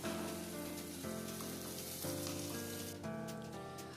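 Chopped tomatoes fry in a pan on a medium gas flame, giving a steady, close sizzle with faint crackling throughout, under soft background music.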